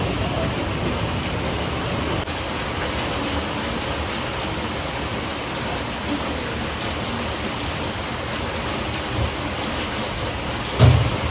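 Heavy monsoon rain falls as a loud, steady broadband wash, continuous throughout, with a single dull thump near the end and no voices.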